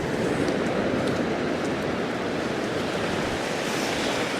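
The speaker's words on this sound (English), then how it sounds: "The waves are just nice and steady." Sea waves roll steadily onto Sandend Beach in Scotland, a continuous loud surf wash with some wind noise and no voices.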